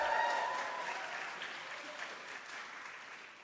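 Audience applause at the James MacTaggart Lecture 2011 in Edinburgh, a dense wash of clapping with a few scattered whistles, loudest at the start and slowly tapering off.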